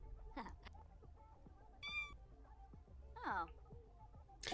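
A cat in The Sims 4 game meows several times, short rising calls scattered over quiet background game sounds and a soft ambient hum.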